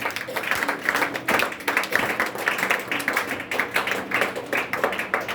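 A church congregation claps in a steady, continuous wave of applause, loud and close, with several voices faintly mixed in.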